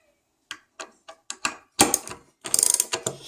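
A hand ratchet tightens the bolts on a steering wheel adapter, clicking in short bursts of sharp ratcheting that quicken into a rapid run near the end, close and distinct against silence.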